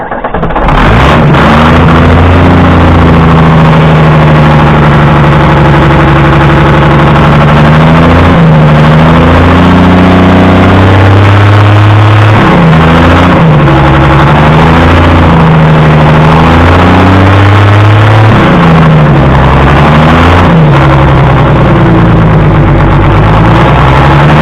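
A Nissan's engine runs unevenly and will not settle to idle, with a power steering line leaking. It is loud and close, rising and falling through repeated revs for the whole stretch, with no talking.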